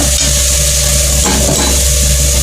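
Onion and tomatoes sauté in hot oil for a prawn and broad bean thokku, giving a loud, close, continuous sizzle that never lets up.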